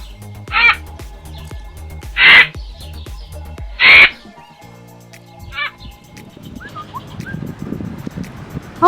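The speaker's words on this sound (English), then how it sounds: "Owl." An owl gives a few loud, spaced calls, followed by quieter chatter and rustling. The sound is mostly bird calls with no clear speech.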